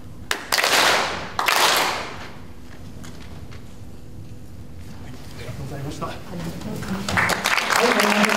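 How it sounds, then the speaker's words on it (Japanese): An audience joins in two unison Shinto worship claps, each a short, loud burst of many hands together, during the Gongen-mai at the 29th Waga Daijō kagura festival; murmuring voices and talk follow. "二礼二拍手一礼で一緒にどうぞ"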